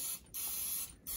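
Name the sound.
non-stick cooking spray on breaded mushrooms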